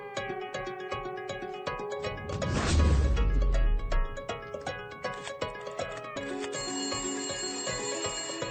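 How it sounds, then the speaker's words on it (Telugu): A phone rings with an incoming call, a repeating bright electronic tone over a musical background, with a brief low thud and swell near the middle. "ఇంకో నెంబర్ నుంచి మనం ట్యాప్ చేస్తున్న నెంబర్ కి కాల్ వస్తుంది సార్."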